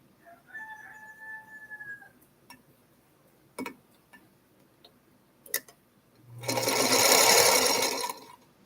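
A rooster crows faintly in the distance with a drawn-out, wavering call. A few sharp clicks follow, then a sewing machine briefly whirs loudly up close.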